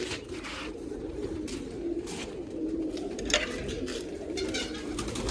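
Pigeons coo repeatedly at close range while pecking feed grain, their low throaty calls overlapping amid rustling and fluttering.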